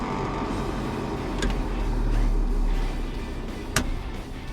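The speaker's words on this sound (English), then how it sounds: "Fan motor's cranking on." Heater blower fan motor in a 1969 Ford F250 truck runs with a steady, fairly loud whirring hum close by, holding level throughout with two brief sharp clicks along the way.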